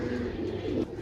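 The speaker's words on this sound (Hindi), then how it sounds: "ए कबूतर है, सही है।" A pigeon coos close by in a short series of low, throaty, rolling calls, repeated in a steady rhythm.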